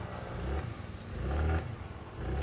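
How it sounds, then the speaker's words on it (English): TVS Jupiter 125 scooter idling and being blipped, a low throbbing exhaust note that swells twice with short throttle revs, heard close and alone. "Now, I'm sure a lot of you want to listen to the exhaust note,"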